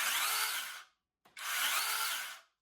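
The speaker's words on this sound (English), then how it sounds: "So this is an 8-inch chainsaw." An 8-inch battery mini chainsaw runs during an assembly test in two high-pitched whining bursts, each revving up and winding down, with a short silent gap and a small click between them.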